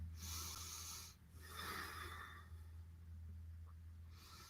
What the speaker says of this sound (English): Breathing here for 3 deep breaths.